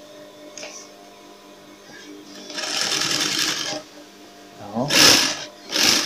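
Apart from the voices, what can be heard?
sewing machine stitching a shoe sole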